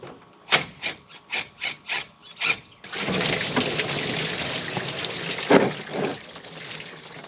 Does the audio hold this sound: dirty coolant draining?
yes